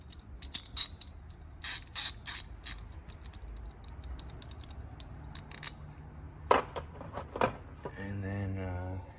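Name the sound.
Gearwrench 90 tooth ratchet clicking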